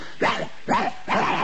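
A comedian's voice imitates a small Pekingese dog barking: three sharp yapping barks in even succession, close and loud, with no other talk.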